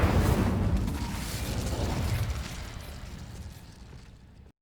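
Incendio fire spell cast in Hogwarts Legacy, a whooshing, crackling burst of flame that starts loud and fades steadily over a few seconds to silence.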